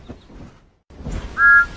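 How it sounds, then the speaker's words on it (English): Toy train engine whistle from Thomas & Friends, a short, clear, sustained tone near the end, following a brief pause after some soft rustling. "Toot toot! Whistle the engines as they race along the many tracks"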